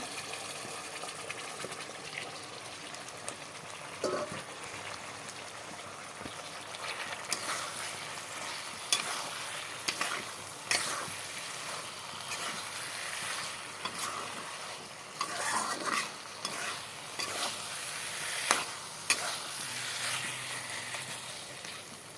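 Fried potatoes are stirred and sautéed in a pan for a rohu fish and potato curry, giving a soft continuous sizzle under repeated, irregular scraping and clattering stirs that grow busier toward the end.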